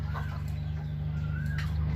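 Big chickens on a rural farm road cluck in short, scattered calls over a steady, loud engine hum, close by and partly masked by the droning background.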